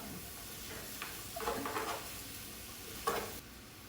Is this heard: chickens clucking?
no